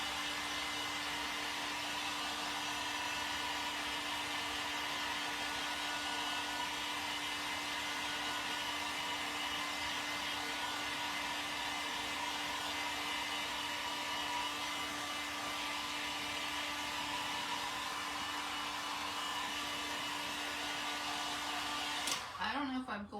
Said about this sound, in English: dry this a little bit more so that glue sets in